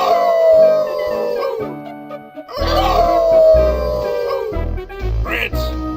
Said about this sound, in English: Hey, everyone, how about a good group howl?